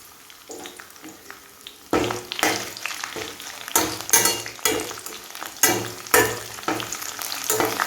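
Dried red chillies fry in hot oil with a sizzle that jumps louder partway through, then pulses in bursts as they are stirred and tossed, close up with no voices.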